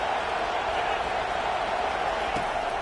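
Dense, steady roar of a large stadium crowd at a football game, a continuous wash of many voices with no breaks, loud and constant throughout.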